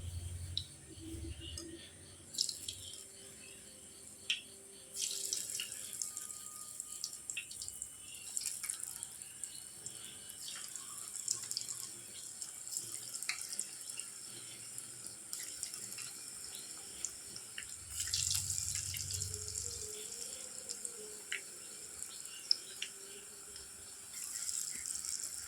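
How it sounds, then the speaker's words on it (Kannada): Raw banana kababs fry in hot oil with a steady, close sizzling hiss that swells now and then as pieces are slipped in one by one, with faint clicks of utensils. No talking. "ಒಂದೊಂದೇ ಬಾಳೆಕಾಯಿಯನ್ನು ಎಣ್ಣೆಯಲ್ಲಿ ಬಿಡಿ."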